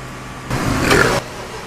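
A turbocharged Cavalier engine briefly cranks and catches, a short rough burst of mechanical roar that rises and then cuts off, with quiet background before and after.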